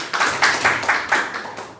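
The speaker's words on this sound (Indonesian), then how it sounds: "tepuk tangan dulu ya" Schoolchildren in a classroom clap together in a short, rhythmic burst of about eight even, ringing claps, fairly close and loud.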